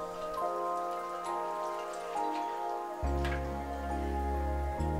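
Pork meatballs, shaped by hand, frying in a bath of oil until golden, giving a steady dense crackle and sizzle, with a louder bubbling surge partway through, and no voices.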